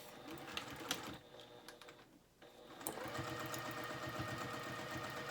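A sewing machine stitches a half-inch seam on a dress, its rapid mechanical whir running steadily with a brief pause midway before resuming loud and continuous, close to the microphone.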